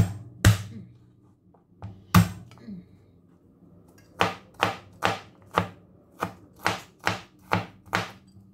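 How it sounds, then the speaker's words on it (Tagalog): Garlic chopped with a knife on a board, a couple of isolated chops followed by a steady run of about ten evenly spaced, crisp knife strikes, close and clear with no talking. "Unahin natin ang bawang. I-chop lang natin mga loads."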